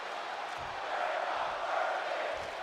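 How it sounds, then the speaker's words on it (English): A video-game arena crowd in WWE 2K22 roars and chants in a sustained, dense wash of voices that swells slightly and holds throughout, with no commentary over it. "The crowd chanting, "We're not worthy.""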